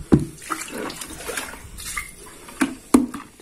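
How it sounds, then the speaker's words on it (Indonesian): Water from soaked ketapang leaves is poured away, a splashing, gurgling flow with a few sharp splats and knocks of the container close by, with no talk. "Warnanya seperti ini, kita buang airnya."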